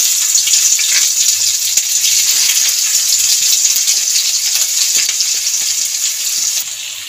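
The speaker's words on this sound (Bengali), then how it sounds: "এবার পেঁয়াজটা ভেজে নেব।" Onions fry in hot oil, a dense, steady sizzle that holds loud and close for several seconds, with faint stirring underneath.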